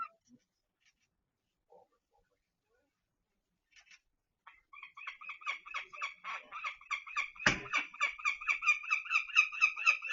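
Wild geese being handled during bird banding give loud, rapid honking calls that start faint and sporadic, then build into a steady run of close honks with one sharp thump partway through; no talk is heard.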